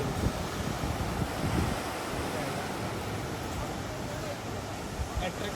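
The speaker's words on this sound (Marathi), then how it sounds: "कसल्या लाटा आपटायला" Sea waves crash in a steady broadband roar mixed with wind buffeting the microphone, continuous and close throughout.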